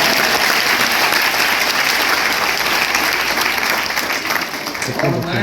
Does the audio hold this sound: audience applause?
yes